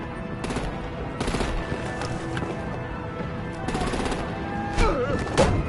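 Gunfire in Batman: The Enemy Within, a series of sharp, loud shots in irregular bursts over a dense, rumbling action backdrop, with a few impacts and crashes toward the end.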